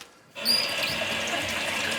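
Water from a tap starts after a short silence and then runs steadily, a close, continuous splashing rush with no talk over it.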